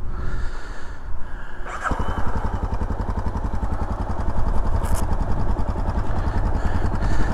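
Motorcycle engine running steadily, a tall bike, with a continuous close rumble and rapid pulsing throb that picks up sharply after a brief quieter start and holds loud throughout, no talking.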